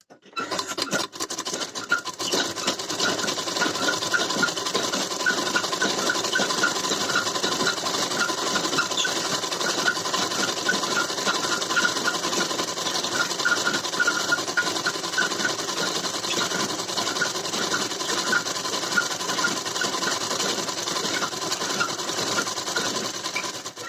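A sewing machine runs steadily, stitching a blouse lining with a top seam, its fast even whir continuing loud and close without pause throughout.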